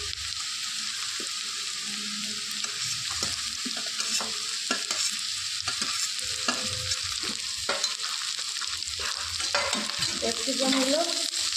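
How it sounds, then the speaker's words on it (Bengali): Capsicum and other vegetables for veg manchurian fry in a pan with a constant crackling sizzle, punctuated by repeated scraping and knocking strokes of a spatula as the pieces are stirred. "এগুলোকে একটু ভালো করে ভেজে নেব।"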